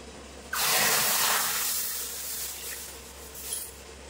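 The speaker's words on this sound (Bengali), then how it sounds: "এবারে কড়াইয়ের ভিতর দিয়ে দেবো দুধ।" Milk hits a hot wok of lightly fried semolina for a sweet, bursting into a loud, steady hiss that fades slowly over a few seconds, with no voices.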